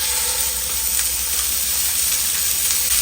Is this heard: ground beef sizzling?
yes